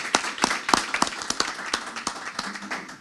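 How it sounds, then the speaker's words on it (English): Scattered applause at a school board meeting honoring a sportsmanship award, a small group clapping in uneven bursts that thin out and fade over a few seconds. "I think applause is due for that."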